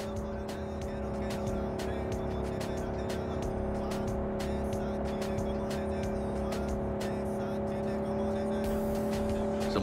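A car driving off in Cyberpunk 2077, a steady engine drone with a humming tone and occasional tire noise, continuous and moderately loud throughout, with brief clicks on top.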